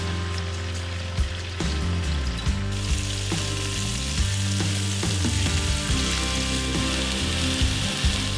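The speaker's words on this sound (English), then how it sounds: "got my large skillet heated to medium high. I'm gonna add just a little bit of olive oil. And I'm just going to add my chicken in." Chicken frying in a little olive oil in a large skillet heated to medium high, a loud, steady sizzle with occasional clacks and scrapes of a utensil against the pan.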